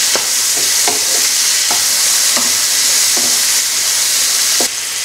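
Bacon sizzles loudly in a hot pan while a spoon stirs it, giving a dense, steady frying hiss broken by regular scraping strokes, close up with no talking.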